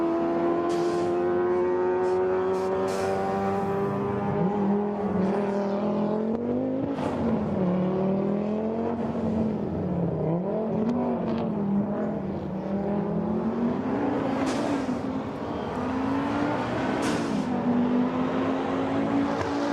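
An Audi rally car at the 2022 FIA Motorsport Games rally special stage drones steadily with a raspy, warbling engine note that rises and falls through gear changes, with sharp crackles and wastegate pops punctuating the continuous loud roar.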